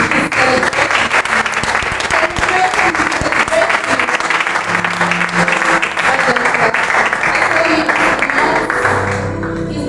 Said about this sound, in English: give a resounding round of applause to Pastor Victor and his team